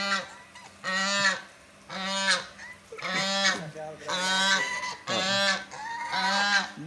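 A farm goose honks loudly and repeatedly while attacking and pecking, close by, with about six long, harsh, nasal calls in a steady rhythm separated by short pauses.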